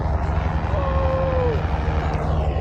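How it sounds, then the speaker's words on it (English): A helicopter flies low and close over a beach, its engine and rotor making a loud, steady rumbling roar that holds throughout the short stretch. "There's a helicopter running over here super close."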